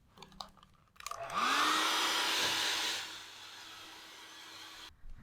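A hair dryer blows on a watercolor landscape painting, rising from quiet into a loud steady whoosh that holds for about two seconds, then drops to a softer sustained hum before switching off.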